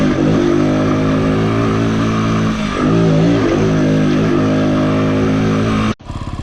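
Steady, loud engine drone from a Sherco TY125 trial motorcycle, held close with slight rises in revs, cutting off abruptly near the end.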